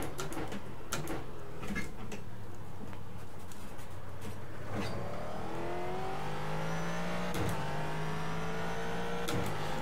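A Ford GT GT3 race car in iRacing at Circuit of the Americas roars steadily, its engine pitch climbing through gears in repeated rising sweeps with brief shift breaks, loud and continuous throughout.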